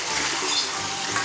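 Chicken and petai stir-frying in a pan, a steady close sizzle with soft scraping and stirring texture throughout, no voices.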